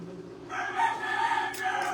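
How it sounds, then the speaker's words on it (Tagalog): A rooster crows nearby, its drawn-out call rising over a low background hum, loud and clear for most of the clip. "may nagtitilaok na manok"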